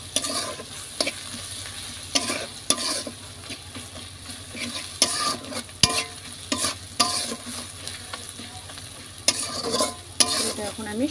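Cumin, salt and chili powder sizzle loudly in a pan while being stirred for a Bengali country chicken curry, with the stirring utensil scraping and clinking in repeated, irregular strokes near the listener.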